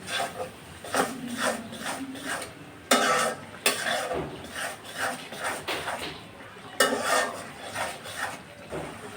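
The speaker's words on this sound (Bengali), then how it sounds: "আমি এখন মশলাটাকে ভালো মতো কষিয়ে নেব।" Spice masala of turmeric, chilli powder, coriander powder and salt stir-fried in a pan, heard as close rasping scrapes of a spatula in uneven strokes, some louder and longer than others.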